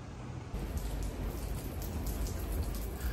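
Steady rain falls outdoors on a cold, foggy day during a cruise trip, a dense close patter on surfaces that swells after a brief softer opening, with no voices.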